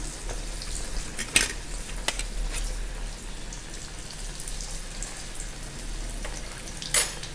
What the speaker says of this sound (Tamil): இப்போ அப்பளம் மாதிரி முழுசாக போட்டு அப்படியே பொரித்து எடுக்க போகிறோம்